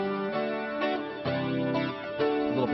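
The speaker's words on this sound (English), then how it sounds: "little bit of stereo chorusing and stuff like that" An electric guitar with a stereo chorus effect plays a short sequence of sustained chords and notes, the shimmering processed tone filling the passage on its own without talk.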